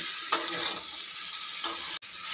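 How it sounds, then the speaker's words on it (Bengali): Green beans and potatoes stir-fry in a pan with a steady sizzle, broken by a few sharp clicks and scrapes of a spatula against the pan, close and without talk. "এবারে কয়েক মিনিট ধরে খুব ভালো করে সব কিছু একসঙ্গে কষিয়ে নেব।"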